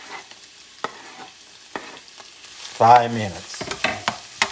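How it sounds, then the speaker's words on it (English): Chopped yellow onion frying in a pan as it caramelizes, a low steady sizzle with occasional stirring clicks, while a voice talks briefly near the end. "Now I'm going to add the yellow onion chopped. And I'm going to caramelize this thing for about 5 minutes"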